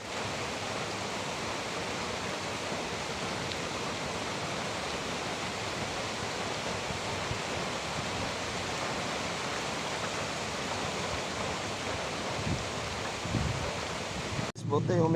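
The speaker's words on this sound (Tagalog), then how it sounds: "tinabunan natin kasi malakas ang ulan" Heavy rain pours steadily onto covered metal roofing sheets, making a dense, unbroken hiss at moderate level throughout, with a brief clatter near the end.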